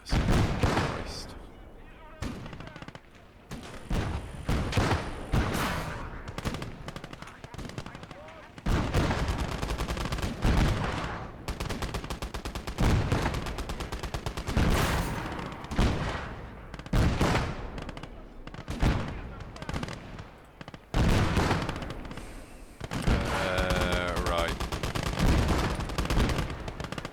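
Gunfire in the World War II strategy game Call to Arms: Gates of Hell, Russian Conquest, with repeated rifle shots and bursts in irregular volleys, near and far, amid battle noise and shouted talk.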